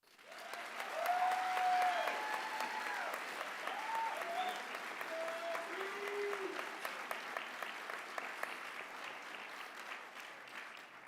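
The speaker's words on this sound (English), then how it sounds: "I'd like to invite everybody to just give a round of applause for this hard work that's finally paying off" Sustained applause from a large audience after a call to honour hard work, a dense steady wash of clapping that rises quickly and holds evenly, with faint vocal cheers mixed in.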